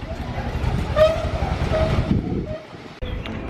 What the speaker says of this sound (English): That's the famous tram.